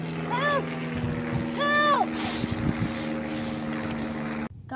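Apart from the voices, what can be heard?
propeller plane flying, from a video game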